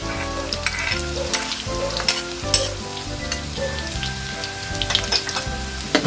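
Garlic sizzles and fries in a pan while being stirred, a steady crackling hiss with scraping stir strokes and occasional sharp pops, close and fairly loud, no talking.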